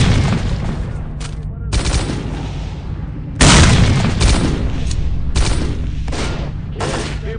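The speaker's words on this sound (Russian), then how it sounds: "Братья, граната!" Gunshots and a grenade blast from the STALKER Call of Pripyat video game: loud, close bursts of automatic fire are split by short pauses, and one heavy explosive boom lands midway through.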